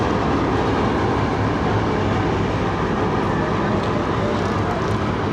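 The 125UP Lasani Express passenger train pulls into Baddomalhi station with a steady, loud rumble of wheels and rolling stock, with faint speech somewhere in the background.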